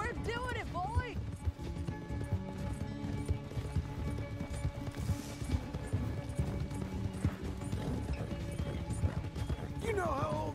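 Galloping horse hooves in Red Dead Redemption 2, a rapid, steady clip-clop throughout, close and fairly loud, with bursts of shouting voices over it.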